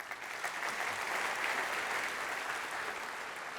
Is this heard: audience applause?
yes